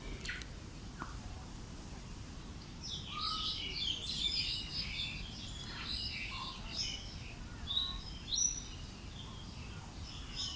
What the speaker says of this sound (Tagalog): kulungan ng mga ibon dito sa Colon Park